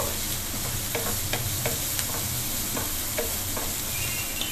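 Onions fry for an aloo samosa filling, a loud continuous sizzle with a low rumble underneath and repeated sharp scrapes as they are stirred in the pan.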